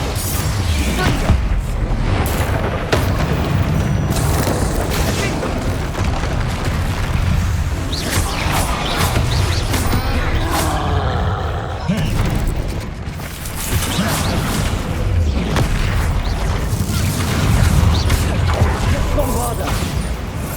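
Fiery Confringo spell explosions in Hogwarts Legacy amid a busy combat mix of booms, mechanical clanks and creaks, loud and dense throughout, with voices shouting over the fight.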